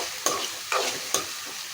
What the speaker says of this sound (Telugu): నూనె కాగింది కదండి, కట్ చేసుకున్నాం ఉల్లిపాయ కరివేపాకు ఇందులో వేసేసుకున్నాం